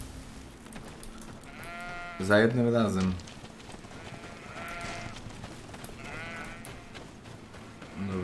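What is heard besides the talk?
rams bleating in video game GreedFall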